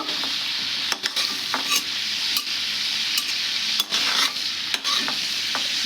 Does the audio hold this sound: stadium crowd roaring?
no